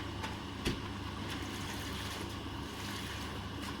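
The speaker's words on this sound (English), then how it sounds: "although it does take a while to fill the baths" Water running steadily from taps into washing baths at a fibre mill, filling them with hand-hot water for washing fleece; a continuous rushing wash with one brief clunk early on and no talking.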